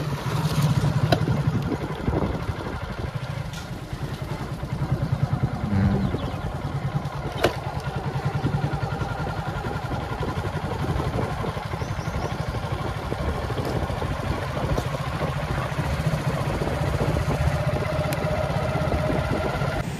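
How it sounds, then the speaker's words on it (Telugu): A motorcycle engine runs steadily for the whole stretch near Chirala beach, a continuous mid-pitched drone with rough, wind-buffeted texture and no break, heard close and fairly loud. "మా వాడు చూడండి బైక్ని అయితే బీచ్ దగ్గర తీసుకొని వచ్చేసాడు."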